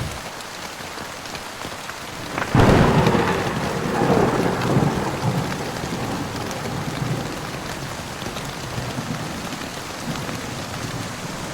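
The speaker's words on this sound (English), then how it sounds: "Nothing more fun than sitting on top of a ridgeline during the lightning storm underneath a piece of Dyneema that's practically see-through." Thunderstorm rain drums steadily on a thin Dyneema tarp pitched on a ridgeline. A sharp crack of nearby thunder breaks in and rolls on under the constant patter.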